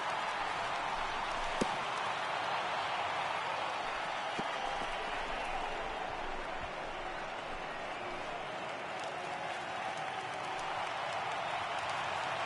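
A packed stadium crowd of over 39,000 in the MLB 18 baseball video game roars steadily on its feet, a broad, continuous cheer with scattered claps, moderately loud and unbroken throughout.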